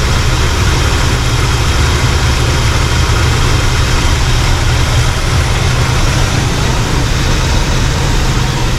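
A 1960 C-10 pickup truck engine runs steadily at a warm idle, a loud, continuous low rumble with a dense, even texture and no break from start to end.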